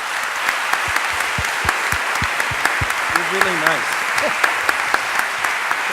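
An audience at a Bocconi University question-and-answer event in 2012 applauds a guest with steady, dense clapping that fills the whole stretch, while someone speaks briefly over it.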